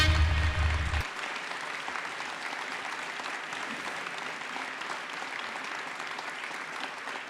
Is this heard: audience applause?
yes